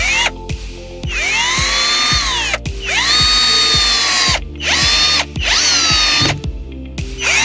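Cordless drill driving screws into wood furring strips inside a Ford Transit van, several loud bursts of rising whine with short pauses between them, each run ending as the screw seats. No talking.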